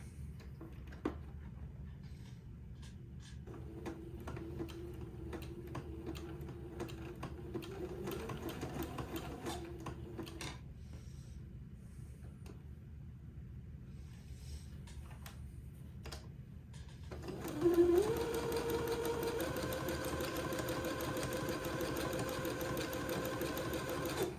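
A sewing machine stitches lace onto a beading piece for a dress, running quietly in steady bursts with faint ticking, then louder and continuous near the end.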